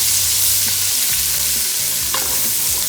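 Diced carrots frying with bacon in a pot for corn chowder, a steady, dense sizzle with the scrape of stirring running through it, close and loud, with no voices.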